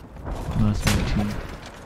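A sniper rifle shot in the video game Ironsight rings out as a sharp blast and fades quickly, with game sounds around it and a voice nearby.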